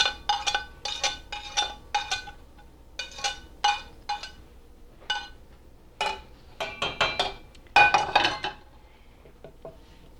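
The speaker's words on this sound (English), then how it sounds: "Give that a nice stir so it's not clumpy" A spoon stirs gingerbread cobbler liquid with orange peel in a pot, giving a string of light clinks and scrapes against the metal in uneven bursts, close and fairly quiet, with no talking.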